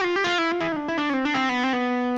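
A distorted electric guitar plays a sustained solo line with sliding, bending notes. It sounds close and loud, with no talking over it.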